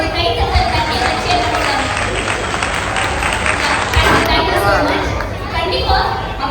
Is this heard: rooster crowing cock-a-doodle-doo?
no